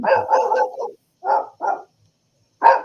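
A dog barks in close, loud bursts: a rapid run of barks at first, then two separate barks after a pause and one more after another short gap, with no talk.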